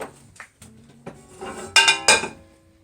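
A metal pie pan is set down onto a metal pizza pan, producing several clinks and scrapes that build to two loud, ringing metallic clanks near the end, close and without talk.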